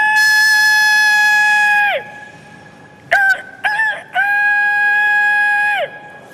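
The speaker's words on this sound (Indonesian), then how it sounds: "binatang-binatang terbangun karena suara seekor ayam yang berkokok" A rooster crows twice, loud and close, each call a long sustained harmonic cry with a falling tail, separated by a few short choppy calls in between.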